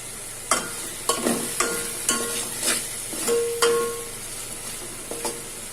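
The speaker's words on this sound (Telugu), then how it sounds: "బాగా వేగనివ్వాలి." Sweet corn soup ingredients fry and get stirred in a pan: repeated scraping spoon strokes at a steady pace over a continuous sizzle, close up, with no talking.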